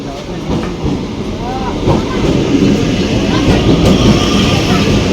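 A train rumbles steadily close by with rattling, clattering wheels as it pulls into a station, loud and continuous, with people talking over it.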